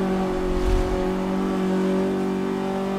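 A race car engine in the Forza 5 video game drones steadily as the driver lets off the gas, a loud, sustained tone with no talking.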